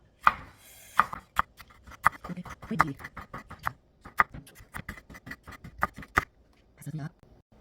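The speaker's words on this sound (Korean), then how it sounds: "청고추 3개 넣습니다. 썰어줍니다." Green chili peppers sliced with a knife on a cutting board, a quick run of crisp, sharp chops in uneven rhythm, close and distinct, with a voice talking between cuts.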